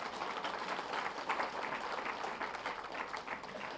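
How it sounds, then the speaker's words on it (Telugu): An audience at a meditation gathering claps together in a dense, continuous patter of applause that holds steady at moderate loudness throughout. "ఒకసారి గట్టిగా చప్పట్లు కొట్టండి"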